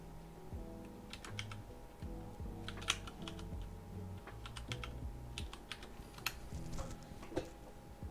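Someone types on a second-hand computer keyboard in quick, uneven bursts of close clicks and taps, heard alone over a low steady hum with no talking.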